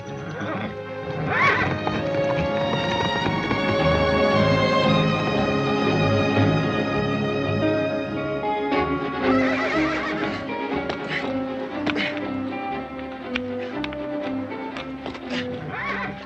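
A horse neighs and whinnies loudly in long, shaky calls, followed by snorts and hoof clatter, with no talking.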